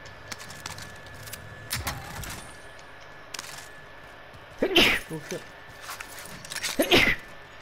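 A person sneezes during an online multiplayer game, with a couple of sharp bursts among people talking over voice chat and scattered clicks.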